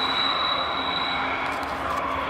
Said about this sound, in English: this ain't gonna work because I'm outside and it's the train's coming by